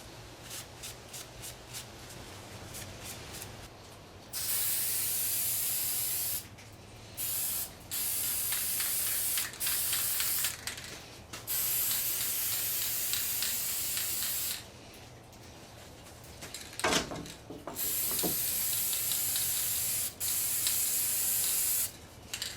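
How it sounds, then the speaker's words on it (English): Lacquer finish is sprayed onto wooden game pieces in several long, steady hissing bursts of a few seconds each, separated by short pauses and faint handling noises. "once they dry, shoot it with some lacquer"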